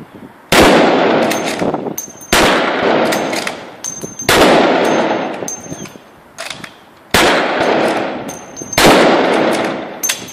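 SMLE rifles fire in volleys at an infantry drill, with five loud, sharp cracks spaced a couple of seconds apart, each followed by a ringing echo and metallic clatter of bolts.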